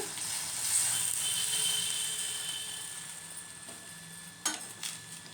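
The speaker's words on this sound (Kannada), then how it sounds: "ಈಗ ಇದು ಫ್ರೈ ಆಗ್ತಾಯಿದೆ." Sliced ivy gourd fries in hot oil in a pan with a steady, soft sizzling hiss, and a single clink of a utensil near the end.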